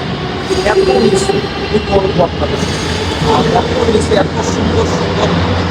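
A metro train passing through a very deep Russian metro station, a loud sustained roar and rumble filling the platform, with a person talking over the noise.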